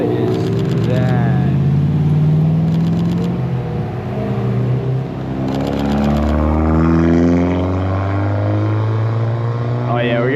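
Cars, including a Porsche, pull up at a road rally with engine rumble and revving close by, under ongoing talk.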